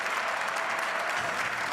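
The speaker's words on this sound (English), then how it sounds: "you hear the applause there at the New York Stock Exchange" Applause fills the trading floor of the New York Stock Exchange ahead of the bell, a steady dense clatter of many hands that holds at an even level throughout without pause.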